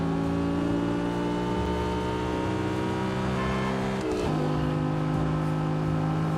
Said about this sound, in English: God, the R8 sounds so good.